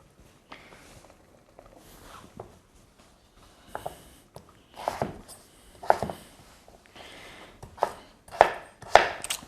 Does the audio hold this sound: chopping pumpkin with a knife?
yes